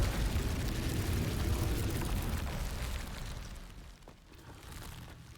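A Confringo fire spell explosion in Hogwarts Legacy: a loud, roaring blast with a broad rumbling tail that fades after about four seconds, with a smaller burst following.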